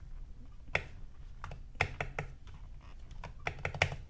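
Keystrokes on an iLovBee i61 budget keyboard fitted with a thick PBT space bar, a few close, sharp clacks and taps scattered irregularly over a soft background, alone with no talking.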